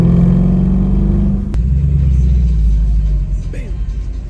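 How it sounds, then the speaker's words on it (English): Mercedes W204 C63 AMG V8 revved hard in neutral at a stoplight, a loud sustained engine roar that drops to a deep rumbling idle after a sharp transient, with voices talking over it. "I'll put it in neutral and I'll rev it, and it's just so satisfying"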